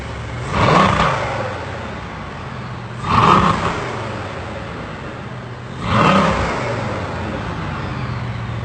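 A sports car's engine revs three times in short bursts, each swell of power rising and falling off after about a second, with a steady idle running between the bursts and no one talking.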